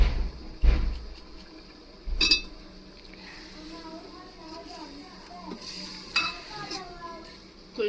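Potatoes going into a pan of kadhi and being stirred, with soft sizzling, several sharp clinks and scrapes of a spoon on cookware, and someone talking quietly throughout.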